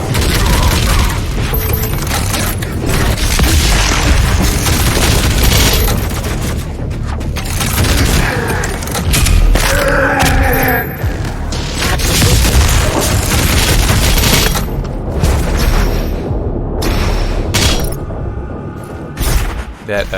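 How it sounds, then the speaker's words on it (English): Shotgun blasts in the shooter game DOOM Eternal, a loud, dense barrage of booming shots and impacts layered over constant combat noise and music with no pauses. "I felt like pulling out the shotgun."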